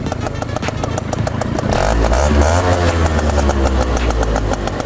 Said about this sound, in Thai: เรามาฟังเสียงเครื่องสตาร์ททีเดียวจะติดไหม เครื่องเย็น ๆนิ่งๆนะฮะ